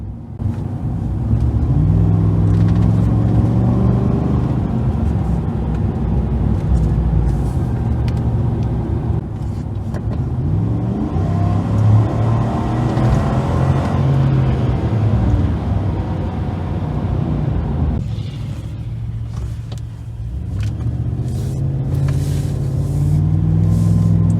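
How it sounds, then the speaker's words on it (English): A 2019 Chevrolet Silverado pickup engine with its stock air intake runs with a deep, steady rumble, rising and falling gently in revs and dipping briefly near the end, heard close and loud. "I wanted to get some sound clips real quick of how it sounds with the stock intake on it"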